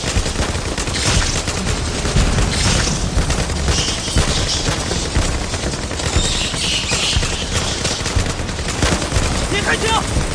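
Film gunfire during a thriller scene on a spider-infested island, with dense, continuous rattling bursts and booms filling the whole stretch, loud and chaotic.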